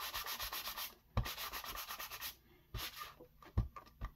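Moldable foam stamp rubbed around on an ink pad, producing close, soft scratchy rubbing strokes in an uneven rhythm with a few sharper taps.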